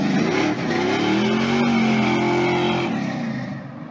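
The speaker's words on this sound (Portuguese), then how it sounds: "O som do seu potente motor ecoa longe." Ford Maverick GT V8 engine revving and roaring, its deep tone climbing and sweeping in pitch as the car accelerates, loud and close before tailing off at the end.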